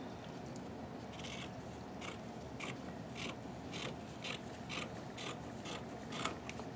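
Scissors snip through fabric for a baby girl's onesie dress, a quiet, steady series of crisp cutting clicks roughly every half second over a faint background hiss, heard close with no talking.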